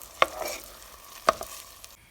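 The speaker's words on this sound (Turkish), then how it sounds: "Soğanlarımız kavrulunca yıkayıp süzdüğümüz pirinçlerimizi üzerine ekleyelim. Biraz kavuralım." Washed, drained rice being roasted with onions in a pan for anchovy pilaf, heard as two sharp scraping stirs about a second apart over a faint, steady background sizzle, with no talking.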